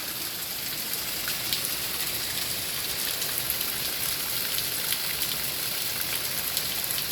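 Steady rain falls continuously after a dry spell in late May, a dense, even hiss of drops on surfaces with no gaps and no voices.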